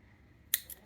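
Scissors snip through the cord of a wooden bead rosary, giving two quick sharp close clicks in an otherwise quiet moment.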